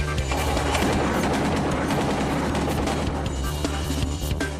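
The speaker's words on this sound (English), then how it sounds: "he has a 50 caliber Browning machine gun to do so" A 50 caliber Browning machine gun fires long, continuous bursts, a dense and loud stream of rapid shots that rattles without a break for several seconds.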